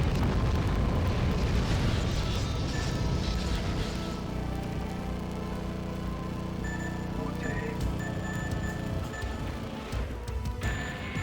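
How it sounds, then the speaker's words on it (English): Smart bomb detonating on a boss in the PlayStation 2 shooter Gigawing Generations: a loud, dense, sustained roar of rumbling blasts and crashes, easing slightly midway, then surging again with game tones and bursts near the end. "So let's just start with a smart bomb on this boss"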